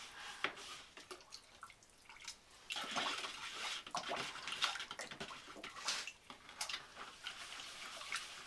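Water trickles and drips into pottery glaze in a container, a soft splashing with brief louder pours, fairly close.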